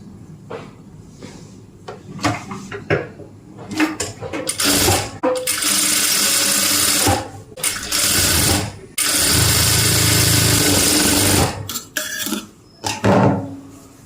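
A sewing machine stitches a dress in several loud, steady whirring runs of a second or two each. Between the runs come clicks, handling knocks and short pauses, with no talk.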